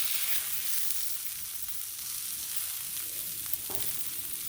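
Sausage sizzles and crackles steadily on a Blackstone flat-top griddle, a constant close hiss with small pops and a faint scrape near the end, no one speaking.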